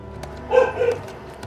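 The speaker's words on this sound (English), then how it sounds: "Sorry about the dog barking." A dog in the room gives a couple of short, loud barks close to the microphone over quiet video game sound, with no talking.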